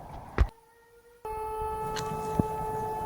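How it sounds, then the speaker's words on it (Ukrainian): An air raid siren sounds in Kharkiv at night as a civil defense alert, a steady, loud droning wail that starts abruptly after a brief thump and a quiet gap, with another faint knock partway through. "Кажуть, увага, повітряна тривога."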